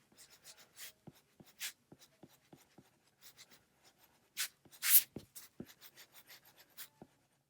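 Pencil drawing on paper for a cartoon robot, a tire being sketched in with quick scratchy strokes and short taps, close and fairly quiet, with a few louder rasping bursts.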